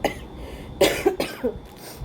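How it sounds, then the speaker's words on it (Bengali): A few short, close coughs come in a quick cluster from a person still recovering from a long illness, each one a sharp burst over a quiet room. "কাশিটা এখনও আছে"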